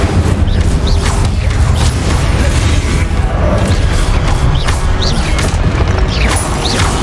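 Fire spell cast in Hogwarts Legacy during a boss battle, a dense, continuous roar of booming and crashing game effects with mechanical clatter, loud throughout without a single clear blast.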